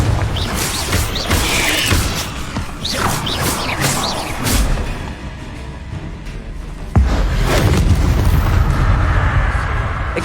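Spell blasts from Bombarda and Confringo in Hogwarts Legacy combat, loud booming impacts and crackling rumbles layered with game effects and music, a heavy thud around the middle followed by sustained dense noise.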